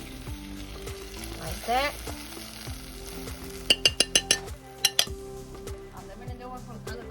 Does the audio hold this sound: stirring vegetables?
yes